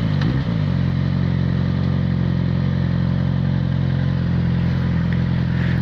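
A Yamaha XJ6 motorcycle accelerates near a concrete tunnel, its engine a loud, steady, close-up drone that fills the whole stretch without any talking.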